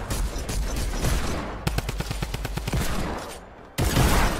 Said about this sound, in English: He's in the shack, hold up, I can shoot him through it.